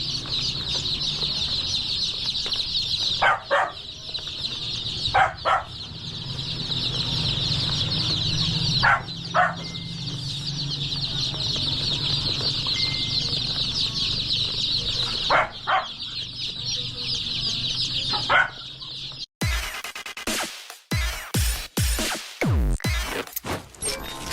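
A crowd of about forty young chicks, about to be chosen as pets, peeps in a dense, continuous high chorus. Sharper knocks and rustling break in near the end.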